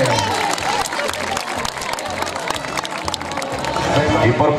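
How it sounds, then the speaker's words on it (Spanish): Crowd applause at a bullfighting event during a patron saint festival in San Felipe, 2019. A loud, dense mix of clapping and crowd noise runs continuously, with low rhythmic tones underneath, swelling slightly toward the end. "Brindamos el fuerte aplauso, la verdad se lo merece."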